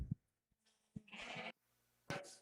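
Sheep bleat at a state fair open sheep show, with two or three short close bleats separated by quiet gaps.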